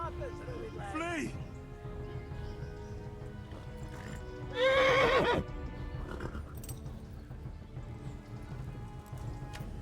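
A horse in the medieval video game Kingdom Come: Deliverance gives two whinnies, a short one and then a louder, longer one, over steady game ambience with hoof clip-clops and background noise.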